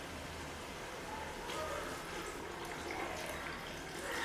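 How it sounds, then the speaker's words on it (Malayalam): Water is poured into a pot of dried tapioca, a steady, close splashing rush that runs without pause for the whole stretch. "നമുക്കിനി ഇതിലേക്ക് കുറച്ച് വെള്ളം ചേർത്ത് കൊടുക്കാം."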